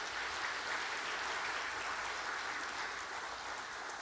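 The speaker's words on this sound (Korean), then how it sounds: "박수를 한번 더 쳐주셔야 됩니다." A church congregation at a Sunday service claps in sustained, even applause, a dense wash of hands heard from a little distance, fairly soft and continuous.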